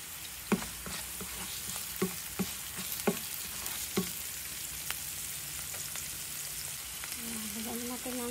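Coconut milk and shrimp being sautéed in a pan for ginataang kalabasa give a steady sizzle throughout, with sharp utensil clicks against the pan repeating at a slow, irregular pace and no talking.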